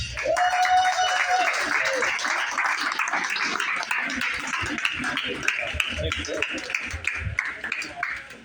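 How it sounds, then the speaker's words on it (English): A comedy club audience applauds a comedian, with a dense rush of clapping and crowd noise that carries for several seconds while a voice talks over it. "Another round of applause, Jared."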